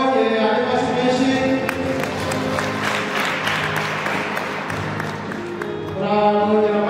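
Steady applause from a crowd at a church wedding ceremony, many hands clapping in a dense, even wash. Music and a voice run underneath and come forward again as the clapping eases toward the end.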